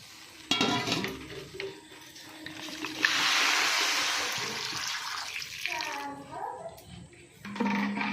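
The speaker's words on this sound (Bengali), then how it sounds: "এবার কড়াতে মটরটা দিয়ে দিলাম" Peas for ghugni are tipped into a wok and stirred, first with a clattering scrape, then a steady wet hiss and the scraping of a spatula against the pan. A voice talks over parts of it.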